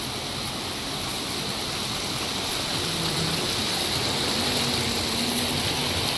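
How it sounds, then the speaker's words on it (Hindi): Water flowing down from the mountains in a stream at Achbal Garden in Kashmir makes a steady, dense rushing wash that holds constant throughout, with no voices. "देखिए पहाड़ों से पानी नेचुरली आता है।"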